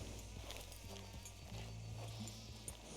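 Horse hooves clip-clop in a steady walking rhythm inside an open-world western video game, with a low rumbling bed and faint background game sound under the footfalls.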